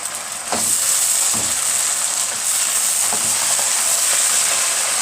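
Tomato sauce and chili paste sizzle steadily in a hot pot for okra and meat tagine, a continuous loud frying hiss with a few soft stirring knocks and no talk.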